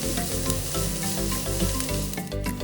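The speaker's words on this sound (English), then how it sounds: "Keep stirring for another minute or 2 until the onions are softened." Pork fried rice with carrots and onions stir-fries in a hot pan, a loud continuous sizzle broken by the scrape and clatter of stirring.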